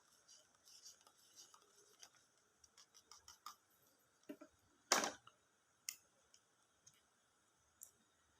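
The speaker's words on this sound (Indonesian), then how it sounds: "kita tetesi terlebih dahulu larutan iodin atau betadin. Lalu kita aduk secara merata." Iodine or Betadine drops being stirred into a spinach leaf solution in a lab glass, a faint run of light clinks and taps with one sharper louder knock midway, then a few scattered ticks.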